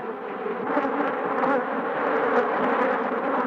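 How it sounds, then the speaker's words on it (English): A dense swarm of killer bees buzzes steadily and loudly around a beekeeper, a close, continuous drone with no pauses or voices. "bees or so have already come out. They're hitting my legs like crazy."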